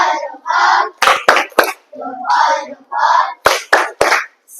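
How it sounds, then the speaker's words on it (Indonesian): Group of children chanting a rhythmic clapping routine, voices alternating with sharp, loud hand claps in quick bursts, close and lively. "Tepuk salut."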